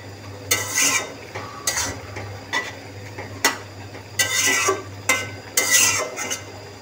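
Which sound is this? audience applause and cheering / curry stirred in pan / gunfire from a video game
curry stirred in pan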